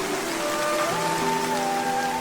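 Steady rain pours down in an animated Bengali fairy tale, a dense continuous hiss holding level throughout, with soft tonal music lines running beneath it.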